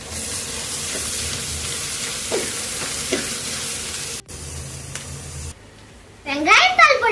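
Carrot and beans sautéing in a pan for homemade fried rice, a steady sizzling hiss that breaks off partway, with a voice and other talk over the top.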